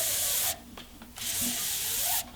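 Leather strands are pulled through the middle of a two-strand spiral bullwhip braid, giving close, soft rasping drags in a few bursts separated by short quiet gaps.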